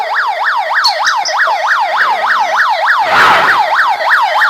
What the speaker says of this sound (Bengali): হঠাৎ করে আমার বাড়ির সামনে অ্যাম্বুলেন্স এসে পড়েছে